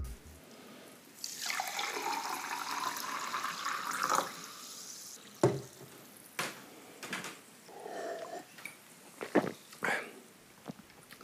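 A home soda machine carbonates tap water with CO2, giving a sustained hissing, bubbling rush for a few seconds, followed by short, sharp bursts and releases of gas pressure, close and fairly loud.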